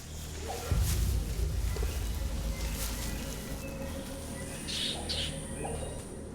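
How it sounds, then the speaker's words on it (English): Rainforest birds give scattered chirps and short calls at a distance, mixed with rustling and a few thuds close by, and a couple of sharper high tweets come toward the end. "Nearby, bird calls have caught the attention of the lace monitor."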